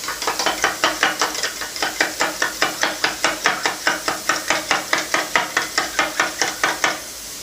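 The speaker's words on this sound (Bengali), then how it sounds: "এবার নুন আর গোলমরিচ দিয়ে ডিমটা ভালো করে ফেটিয়ে নেব।" Eggs with salt and black pepper are beaten briskly in a bowl, a fast, even series of close tapping strokes, about four per second, ending in a brief pause.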